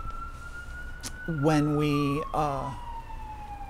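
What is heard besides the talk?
emergency vehicle siren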